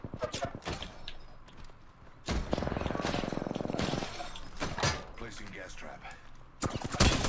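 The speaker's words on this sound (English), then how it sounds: "I'm getting shot at" Gunfire in an online shooter game crackles in sharp bursts and a rapid rattling volley, mixed with footsteps and other game effects while a player talks over it.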